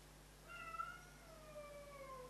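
A cat lets out a couple of drawn-out, falling meows, faint and indoors against a low steady hum.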